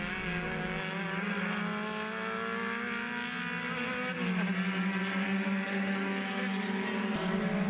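Touring race cars, among them an Alfa Romeo Giulia, roar steadily and loudly, engine notes rising and shifting as they battle closely on the circuit, with no voices over the din.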